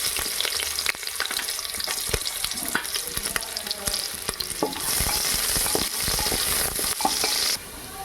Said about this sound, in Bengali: আমার তেল গরম হয়ে গেছে, এবার দিয়ে দেবো গোটা গরম মশলা, তারপর দিয়ে দেবো কটা তেজপাতা, তারপরে দিয়ে দেবো পেঁয়াজ